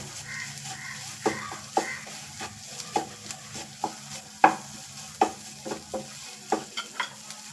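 Coriander leaves stirred into kothu parotta masala in a hot pan, with a spatula scraping and tapping the pan in quick, uneven strokes over a light background sizzle, close and distinct with no talking.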